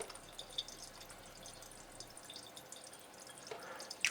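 Quiet trickle and light dripping of water from a Jupiter JP-101 water ionizer running into a test tube, faint and close with a few brighter drips.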